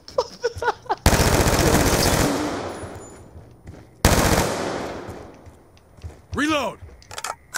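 Loud sustained automatic gunfire in Black Ops 2, two long bursts with short pauses, mixed with excited talking and a shout.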